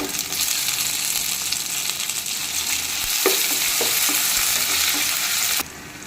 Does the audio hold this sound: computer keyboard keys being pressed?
no